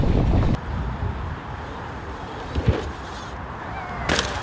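Wind rushes across the microphone during a mountain bike ride on a slopeduro trail, a steady broadband roar with a louder gust at the start and brief bumps near the end, with no talking.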